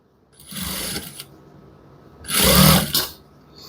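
A sewing machine stitches a shirt in two short runs of whirring, mechanical stitching, close and clear, separated by a brief quiet pause.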